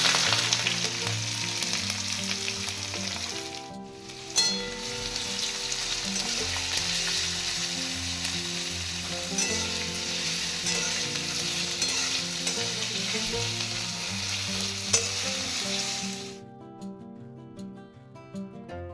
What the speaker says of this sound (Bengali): পেঁয়াজগুলো আমি তেলে দিয়ে দেবো